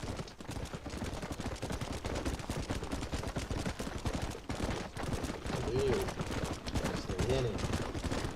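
Dense, rapid gunfire crackles without pause during a shootout in the Red Dead Redemption video game, with voices heard amid the shots.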